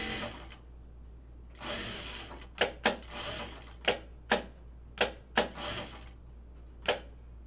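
A domestic sewing machine thumps out about nine sharp, separate knocks at uneven intervals as the presser foot is raised and lowered while napkin fabric is walked around a curve, with short bursts of machine whirring in between.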